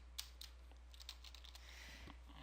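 Typing on a computer keyboard, a quiet run of light key clicks in uneven bursts over a low steady electrical hum, with no one speaking.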